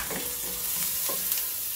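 Home-grown onions fry in butter in a Dutch oven at a cabin, a brief, close, steady sizzle with a few soft stirring scrapes.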